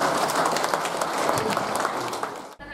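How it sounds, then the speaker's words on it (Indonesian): An audience at a hospital anniversary ceremony for KSH Pati breaks into sustained, loud applause, dense clapping that carries evenly for over two seconds before cutting off abruptly. "Kita boleh memberikan aplaus."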